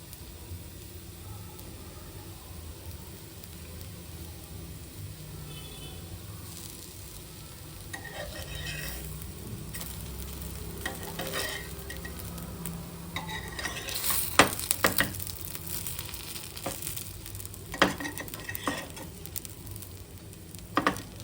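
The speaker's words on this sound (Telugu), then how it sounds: "ఇలా నెయ్యి వేసి కాల్చుకోవడం వల్ల ఫ్లేవర్ అనేది ఎన్హాన్స్ అవుతుందండి" Stuffed idli fries in ghee in a pan with a quiet, steady sizzle, while occasional spatula scrapes and light taps grow busier toward the end.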